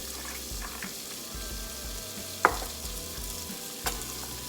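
Half an onion hisses and sizzles as it is added to hot oil in a pan, a steady frying crackle broken by a sharp clack near the middle and a softer knock shortly after.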